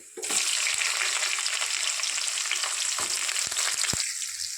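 Onions hit hot oil in a pan and break into a loud, steady close-up sizzle that holds throughout, with a few light stirring taps near the end.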